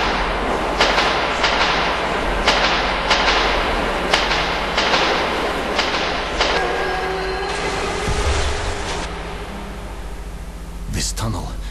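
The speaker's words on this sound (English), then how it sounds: "Yes, that is a ghost train." A ghost train rumbles through a subway tunnel in the Metro 2033 video game, a loud continuous roar with repeated rhythmic wheel clacks and a metallic squeal near the end, with a voice talking over it.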